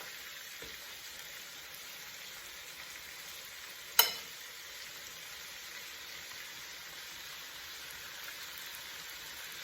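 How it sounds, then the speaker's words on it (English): Steady, quiet sizzling of floured chicken frying in olive oil in a hot pan, a soft continuous crackle with one sharp click partway through. "put those in the hot frying pan with some olive oil."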